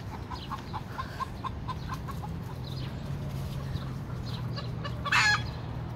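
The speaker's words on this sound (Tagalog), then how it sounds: "Oh, daming manok." A flock of chickens clucks steadily during feeding at a rural home, busy overlapping calls with one brief louder squawk near the end, close by and unaccompanied by talk.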